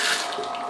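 Hot water runs steadily from a faucet at a sink, a close, continuous splashing hiss with no talk.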